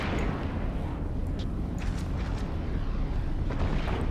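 A Thanatos carrier is destroyed by rapid heavy missiles in EVE Online, heard as a dense, continuous low rumbling roar of explosions with scattered crackling bursts on top, loud and sustained with no talking.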